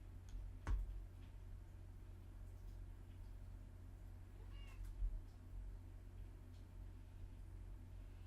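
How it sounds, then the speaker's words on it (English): Cat meowing twice, a sharp close meow early on and a softer one later, over a steady low hum and faint ticking. "Gotta let my cat in."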